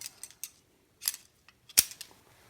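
A PathLoc lateral retractor, a surgical instrument, snapping into place as its central blade is pushed with the handle, giving several sharp close metallic clicks, the last one loudest, with no talking.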